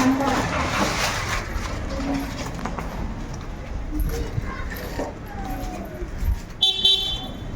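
A cycle rickshaw horn on a damp street gives a short, high toot near the end, heard over constant street noise and people talking.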